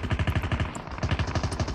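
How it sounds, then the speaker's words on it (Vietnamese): Rapid automatic gunfire from a weapon in the Call of Duty video game, loud, evenly spaced shots in two sustained bursts separated by a brief pause. "Bắn thử coi nó có giật không hay nó nằm im"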